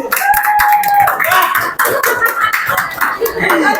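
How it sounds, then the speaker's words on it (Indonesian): Classroom audience clapping for a student group at a school presentation, scattered and uneven hand claps running throughout with voices chattering over them. "Silakan tepuk tangan."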